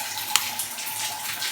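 Water running through the hot line of a newly installed bathroom water heater, a steady faint rushing hiss with one brief knock near the start.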